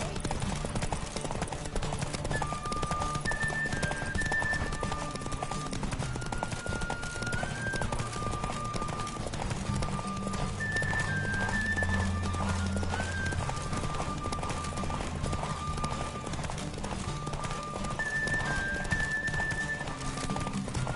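Steady hoofbeats of a galloping horse in The Witcher pound on continuously under a bright, repeating game music melody, with no pauses throughout.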